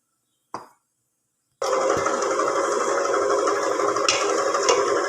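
A dough mixer churning dry ingredients for dough, a steady loud mechanical whir with a rattling grind that starts abruptly after a brief knock and runs continuously.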